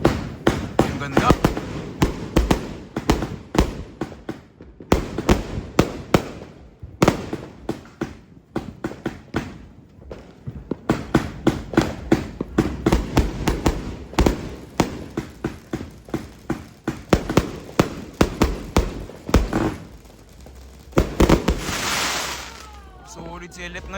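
Rapid bursts of New Year's Eve fireworks in the Philippines crackle and pop in dense volleys, with loud sharp bangs and short gaps, and people cheering and talking between them.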